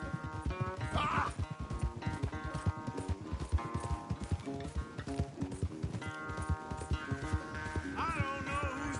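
Horse hooves clip-clop in a steady rhythm through a Red Dead Redemption II race, close and continuous under game music.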